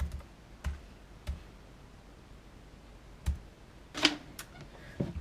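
Computer keys are tapped in sparse, uneven clicks while card details are entered on a keyboard, a handful of close, crisp keystrokes spread across a quiet room.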